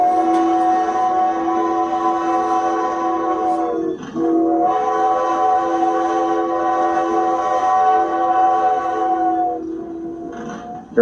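Historic steam train on the Strasburg Railroad sounds a long, loud, sustained horn-like whistle close by, briefly breaking once before resuming and holding steady to the end, with no one talking.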